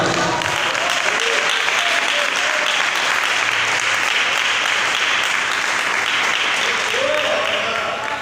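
A church congregation applauds during a sermon, loud and sustained clapping from many hands that continues evenly from start to finish.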